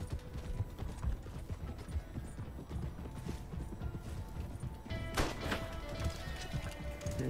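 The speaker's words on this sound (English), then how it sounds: "Where's the horse? I'm on the horse." Steady clip-clop of horse hooves at a trotting pace in the video game Red Dead Redemption, with a busy game-like ambience, and a brief brighter burst partway through.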